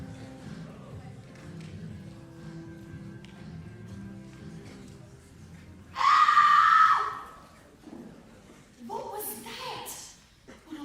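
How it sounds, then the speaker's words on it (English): A loud, bright scream from a performer on stage in a play, Two Witches No Waiting, rising abruptly and holding for about a second, followed by shorter cries and stage voices in a room. "Was that you who screamed just now?"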